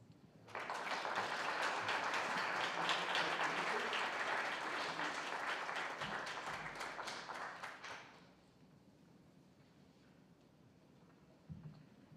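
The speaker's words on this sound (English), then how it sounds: "I think we should give a round of applause to all 5 teams for doing such a great job." Audience at a collegiate pitch competition breaks into sustained applause, many hands clapping steadily for about seven seconds before fading out to a quiet room.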